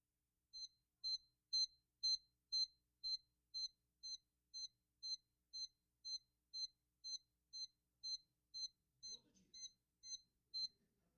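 Bread machine beeping as its control buttons are clicked: a long run of near-identical short, high electronic beeps at a steady, fairly fast pace, about twenty in a row, with faint handling noise near the end.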